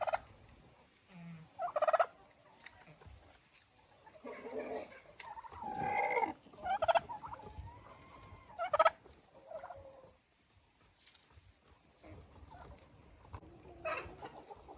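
A five-month-old tom turkey in a henhouse lets out bursts of loud gobbling, mixed with clucking hens, in irregular outbursts separated by quieter gaps.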